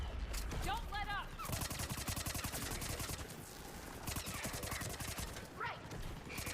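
Rapid sustained automatic gunfire from Mass Effect 3, dense bursts of shots running almost continuously with crashes and brief weapon effects layered in, loud and close throughout.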